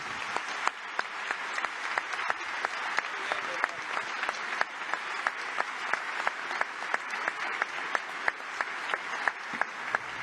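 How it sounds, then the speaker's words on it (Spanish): Applause closing a business meeting with heads of state, a sustained, even roar of many hands clapping with sharp individual claps standing out throughout, steady in level and moderately distant. "De tal manera que démosle un gran aplauso y muchas gracias."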